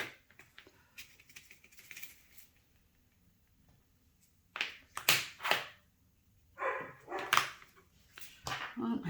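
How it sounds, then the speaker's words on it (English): Several dogs barking at home, bursts of sharp barks in clusters, faint at first and then louder and closer, with quieter stretches between. "Oh, my dogs are barking."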